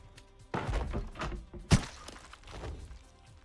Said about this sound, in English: Change my mag.